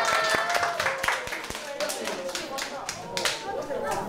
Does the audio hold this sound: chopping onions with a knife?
no